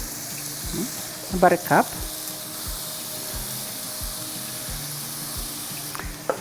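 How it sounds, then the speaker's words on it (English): Arborio rice being poured into a hot pan and sizzling, a steady crackling fry with soft scraping and clinks underneath, close by, while a person speaks briefly. "so we're going to put the rice. I'm using arborio rice"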